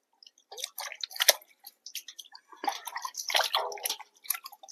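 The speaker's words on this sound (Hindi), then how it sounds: "अब इसको धोते हैं और काटते हैं, नमक मिर्ची लगा खाते हैं। तो अच्छे से धो लेता हूँ इसको मैं।" Mangoes being washed by hand in water, with irregular splashes, drips and wet squishing sounds, close and fairly quiet.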